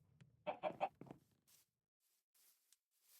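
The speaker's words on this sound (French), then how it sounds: "Une autre poule." Chickens in a video game give a short burst of three quick clucks up close, followed by a few faint, scattered squawks and rustles set against near silence.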